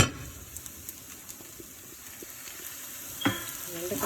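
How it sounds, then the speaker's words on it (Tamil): Okra sautéing in a pan gives a steady, close sizzle, broken by light spatula taps and a sharper scrape near the end. "வெண்டைக்காய் பாருங்கள் நல்லா வதங்கிருக்கு."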